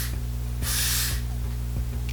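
Got to Be Spritz hair spray misted onto hair, a single loud airy hiss lasting about half a second over a steady background hum, close by with no talking.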